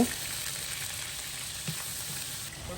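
Crushed green chilli, tomato and ginger paste fry for a wedding-style pepper chicken, a steady close sizzle with faint stirring scrapes and no talking.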